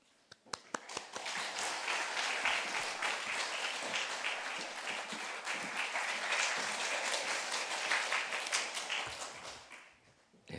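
Church congregation at a Korean dawn prayer service breaking into loud, sustained applause to welcome a visiting pastor, a few scattered claps building into a dense steady roar that fades near the end.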